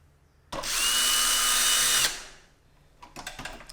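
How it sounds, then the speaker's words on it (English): A power drill boring holes into a PC case gives one loud, steady whine for about a second and a half, then winds down, followed by faint clicks and handling sounds. "I'm just gonna drill some fucking holes in this."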